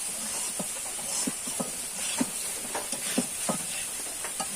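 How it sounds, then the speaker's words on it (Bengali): Rain falls steadily outside a home kitchen, a continuous hiss with scattered soft knocks and drops, with no one talking. "কিছুক্ষণের জন্য বৃষ্টি কমেছে আমাদের এই জায়গায়, এই এখন আবার বৃষ্টি পড়তেছে"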